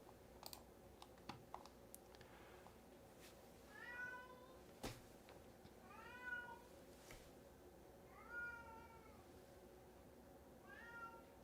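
Several drawn-out cat meows and yowls rise and fall from somewhere nearby over a background of keyboard typing and clicks, with each cry lasting about a second.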